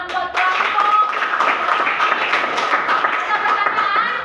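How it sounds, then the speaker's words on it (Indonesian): Classmates clap for a presenting group in a school classroom, a dense, steady patter of hands lasting throughout, fairly close, with some voices mixed in. "Tepuk tangan buat kelompok."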